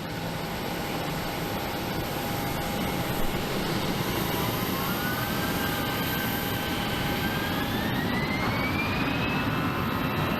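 American Airlines jet taking off from runway 25 right at Phoenix Sky Harbor, a strong sustained engine roar with a rising whine as it powers up, no voices.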